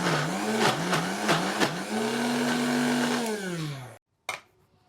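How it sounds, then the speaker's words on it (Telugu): An electric mixie grinds tomato pickle with salt and chili powder, a loud whirring motor whine that surges and dips in short pulses, holds steady, then winds down and stops, followed by a single clack. "ఇప్పుడు దీన్ని మిక్సీ పెట్టేద్దాం"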